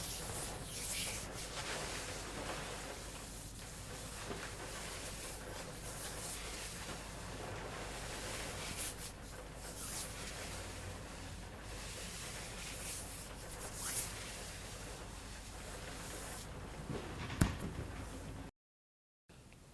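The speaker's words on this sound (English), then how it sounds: "we can finish by more softly rubbing down the lung channel and back up again" Soft hands rubbing down the arm along the lung channel and back up during a qigong routine, a steady close brushing friction with no talk, cutting off abruptly near the end.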